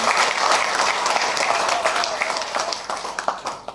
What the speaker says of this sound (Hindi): इन दोनों के लिए जोरदार तालियां होगी